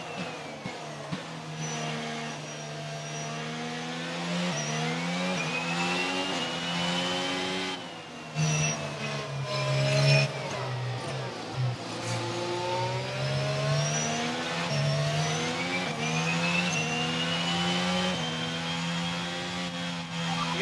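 Racing car engines from an F1 video game on the final lap at Zandvoort, a steady loud roar with pitch sweeping up and down through gear changes across the whole stretch, no talk.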